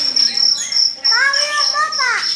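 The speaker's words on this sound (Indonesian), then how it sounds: "Jangkrik." Steady high cricket chirping, loud and close, runs throughout with a constant trill, while a voice speaks over it and birdlike chirps rise and fall in the background.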